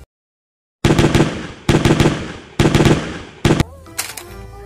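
A toy M16 rifle plays its electronic firing sound effect in four loud rapid bursts separated by short gaps, ending in a brief electronic tone.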